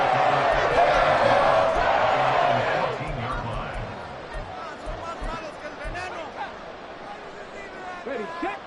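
A stadium crowd cheers in an American football video game with Tampa Bay Buccaneers on offense, a loud roar that fades into steady crowd noise under a commentator's voice.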